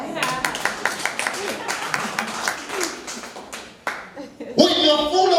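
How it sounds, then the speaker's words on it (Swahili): A church congregation claps in a loose burst of uneven hand claps mixed with voices, building into a denser round of applause at the end. "Tupigie makofi"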